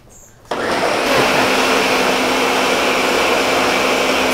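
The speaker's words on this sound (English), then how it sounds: "I know how to work a blender this time" A kitchen blender whirs up to speed and runs loudly and steadily through a thick, chunky smoothie, a dense close roar with a faint hum beneath, after a brief quieter moment.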